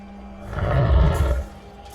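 A fictional beast in a nesting cavern gives a deep, rumbling roar that swells to a loud peak midway and then fades, with a growling edge, heard alone and fairly close.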